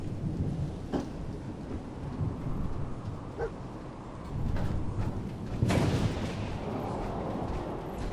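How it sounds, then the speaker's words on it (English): Rolling thunder from a radiation storm in the Fallout 4 video game, low rumbles building throughout with a louder crack near the end, heavy and continuous with no voices over it. "Radiation storm."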